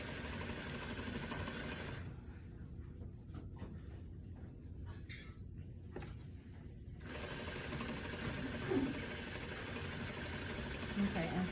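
A sewing machine stitches a side seam in a steady, fast mechanical whir, continuous throughout apart from a brief lull in the middle, heard up close with a faint voice in the background.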